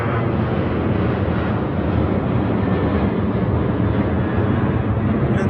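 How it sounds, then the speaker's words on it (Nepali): A jet airplane passes low overhead at a seaside park near Tokyo, its broad steady roar loud and continuous throughout, drowning out other sound. "प्लेन चाहिँ टाउकै माथि उडेर जान्छ है"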